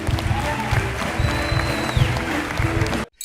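Studio audience on the Beyaz Show clapping steadily, with rhythmic thumping hits underneath and some music, ending abruptly in silence.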